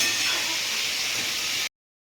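Fish sizzles steadily as it fries in hot oil in a home kitchen, a bright, even hiss held for under two seconds before cutting off abruptly.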